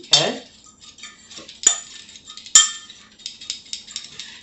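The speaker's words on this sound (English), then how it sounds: "So let me mix these together." A utensil stirs butter sauce ingredients for lemon pepper chicken thighs in a bowl, giving a few close scraping strokes and two sharp clinks against the side, separated by quiet gaps.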